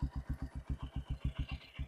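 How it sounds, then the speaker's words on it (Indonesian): A restored Honda CB125 motorcycle idles close by with a steady, even, rhythmic thump of exhaust pulses, alone and without talk. "ini untuk suara mesin halus ya bolo"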